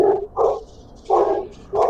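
Dogs bark three times in close succession, each a short, moderately loud bark with a clear pause between them.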